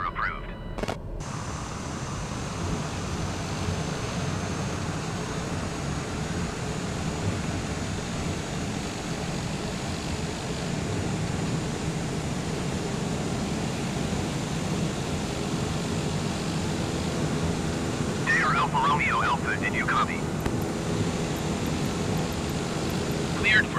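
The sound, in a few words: aircraft taking off in video game Microsoft Flight Simulator 2020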